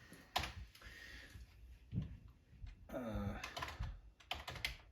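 Keys clatter on a computer keyboard in a few short bursts of quick taps with pauses between, quiet and close, while faint electronic tones from a retro computer game play in the background, no talking.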